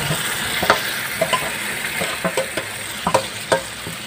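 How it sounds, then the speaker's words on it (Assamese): A ground spice mix of peanuts, onion, chili powder, ginger and garlic poured into a hot pan and stirred, with a steady sizzle and repeated spoon scrapes and taps close by and no talking. "অকণমান লৰাই দিম এনেকৈ এইটো"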